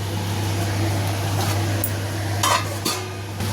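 Metal lid set over a cooking pot of potatoes, a couple of clanking knocks near the end over a steady kitchen hum and faint sizzle.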